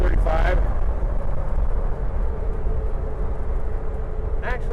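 A 1938 Chevrolet pickup truck rolls down the road at roughly 30 to 35 mph, a steady low engine and road rumble running throughout with a voice briefly talking over it at the start and end.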